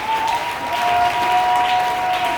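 A church congregation bursts into loud, continuous applause that holds steady throughout, with sustained keyboard tones ringing over the clapping.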